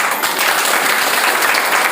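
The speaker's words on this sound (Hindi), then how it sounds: "मैं चाहूंगा एक जोरदार ताली होनी चाहिए" An audience at an event claps loudly in a dense, sustained burst of applause, close and unbroken.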